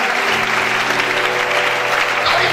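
A congregation at an Easter church service applauds, producing dense, loud, continuous clapping from many hands that fills the whole stretch without a break.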